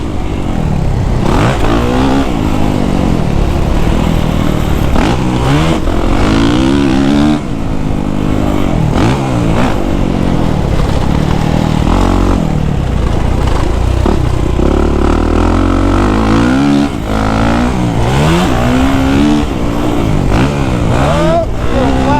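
A 2023 Kawasaki KX450SR motocross bike revs hard on a dirt track, engine rising and falling continuously and loud throughout, with wind noise and a voice talking over it.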